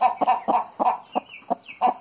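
A brooding hen clucks in a steady run of about eight short, close, fairly loud clucks, evenly spaced with brief gaps between them.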